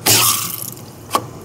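A Whirlpool refrigerator water filter pops out under pressure with a sharp burst of spraying, hissing water, then fades to a faint trickle and ends on one short knock or drip.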